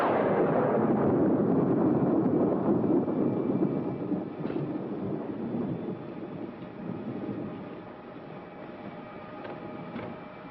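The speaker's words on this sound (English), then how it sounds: "Well, another stormy weekend." A deep, rolling rumble of thunder fills the space, loud at first and slowly fading into a steady, softer roar of stormy weather.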